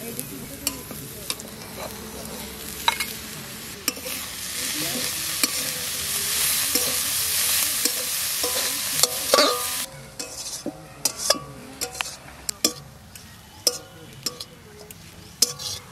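Kheshari greens fry in a pan over a low flame, a steady close sizzle punctuated throughout by sharp spatula scrapes and taps, which grow sparser and more distinct as the sizzle dies down.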